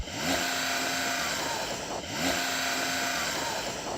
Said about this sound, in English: So I'm going to rev up this Porsche